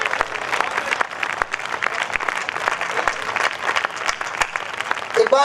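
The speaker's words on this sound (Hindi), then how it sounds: "एक बार जोरदार तालियां हो जाएं" An audience at a Jain poetry gathering in Ladpura, Kota breaks into sustained, dense applause, loud and close throughout, with a brief voice surfacing near the end.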